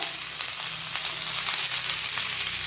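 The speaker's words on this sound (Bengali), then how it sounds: "এগুলো অর্ধেক ভাজা হয়ে গেছে, এবারে আমি ব্রোকলি কেটে রেখেছি" Mixed vegetables including broccoli, sweet pumpkin, sweet potato, beans, capsicum and peas sizzle steadily in a pan, a loud continuous frying hiss with a few soft stirring bumps and no voices.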